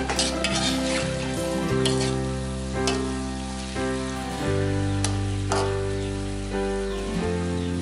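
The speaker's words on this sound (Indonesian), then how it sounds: "kita masukin cumi-cuminya semua, kita aduk-aduk biar dia bumbunya merata ya ke cumi-cuminya" Squid tossed with spice paste in a hot frying pan gives a steady sizzle and frying hiss, with scraping stir strokes throughout under a continuous musical background.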